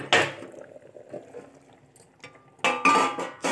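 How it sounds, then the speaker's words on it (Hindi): Metal lid lifted off a pot of boiling mixed leftover vegetables, giving a clattering scrape near the start and a couple more sharp metallic clinks and rattles toward the end, with quiet bubbling-like texture between. "हम इसका ढक्कन खोलेंगे,"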